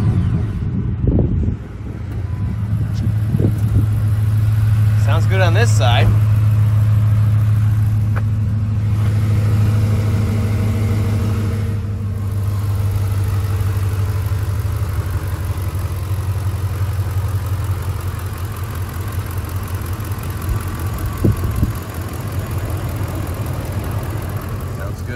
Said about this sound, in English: All right, let's try it. Start it up.